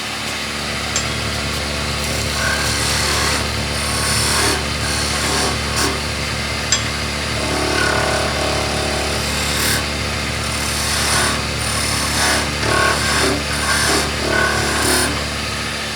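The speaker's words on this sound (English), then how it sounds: "I'm just going to finish using the skew. So we'll get the skew in these areas just to tidy those up." A woodturning lathe spins an eccentric piece while a skew chisel tidies the surface, a loud, continuous whirring drone with rough scraping and intermittent cutting noise, close by and with no talk.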